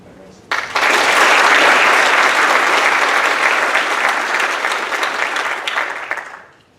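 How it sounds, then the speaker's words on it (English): Loud audience applause at a high school senior athletic awards night, beginning abruptly and holding as dense sustained clapping for several seconds before tapering off. "I think it's appropriate to give a round of applause to all the coaches and parents"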